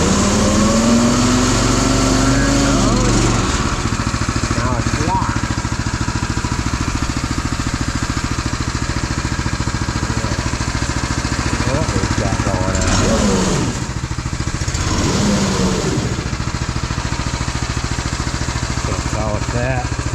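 An Easiload seed tender's engine runs with a steady, continuous drone, with a voice speaking briefly over it.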